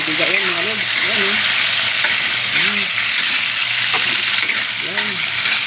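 Chicken liver fries in hot oil for chopsuey, a loud steady sizzle and hiss running throughout, with brief vocal sounds over the top.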